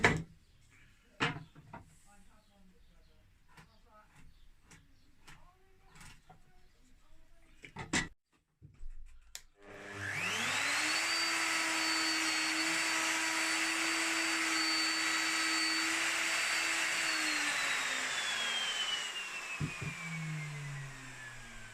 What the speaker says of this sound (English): I would use my router and biscuit cutting bit to fit joining